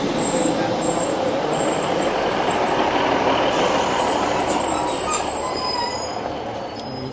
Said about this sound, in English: So we'll get this one and we'll go right through to Manchester Vic with this train.